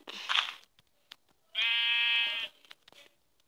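A sheep in a video game bleats twice, a short rough call followed by a longer sustained nasal bleat, close and clear among faint clicks and small sounds.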